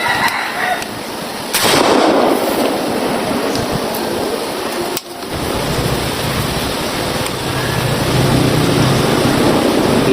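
A homemade bamboo cannon (boga) fired outdoors, giving one sharp, booming blast around two seconds in and a second loud bang near five seconds, each with a rumbling tail over steady background noise.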